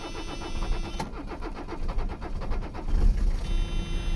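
A Mercedes 300CD diesel engine cranks rapidly and then catches and fires up without ether or glow plugs, settling into a rough, loud idle close by.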